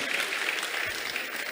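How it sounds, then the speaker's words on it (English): Church congregation clapping together in steady, dense applause that fills the room evenly for the whole moment, with no voices standing out above it. "Let's clap for God as they go back to their seats"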